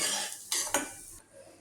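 Semolina roasting in ghee in a pan, stirred: a soft dry sizzle with two quick scraping strokes of a spoon against the pan, then the sound drops away, close and quiet.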